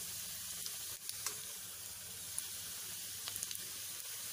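Onions sizzle and fry in a pan for brinjal drumstick sambar, with asafoetida and sambar powder added; a steady, close hiss with scattered small crackles and pops runs throughout.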